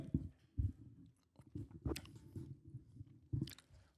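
Close-up chewing on a live stream microphone, with wet, squishy bites and crunches repeating irregularly and echoing a little, loud and near, with no talking over them.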